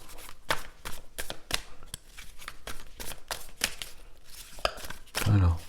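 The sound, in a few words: cutting a deck of tarot cards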